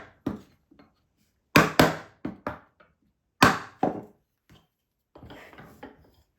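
Sharp wooden thunks and chops ring out in scattered bursts as waste wood is chopped out of a cut to clean up the shoulder, close and fairly loud with quiet gaps between strikes.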